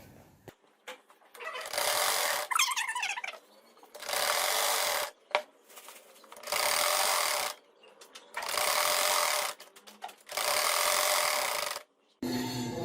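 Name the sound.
sewing machine stitching pleats on fabric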